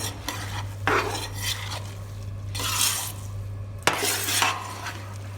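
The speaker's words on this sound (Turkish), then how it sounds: "Şimdi e, bulgur pilavımızı güzelce kavuracağız böyle bu şekilde arkadaşlar" Bulgur for pilaf is stirred and sautéed in a pan, a spoon scraping and swishing through the grains in repeated strokes over a soft sizzle and a steady low hum, close and fairly loud, with no talking.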